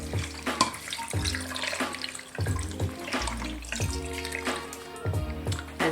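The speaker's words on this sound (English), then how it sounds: "I'm going to pour in 2 cups of water" Two cups of water pour into an Instant Pot over barbecue ribs and onion, a continuous splashing stream with bright gurgling bursts, close and alone.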